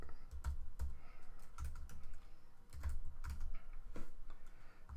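Rapid keystrokes on a computer keyboard while code is typed, a quiet, uneven run of close clicks and taps with brief pauses, no voice over it.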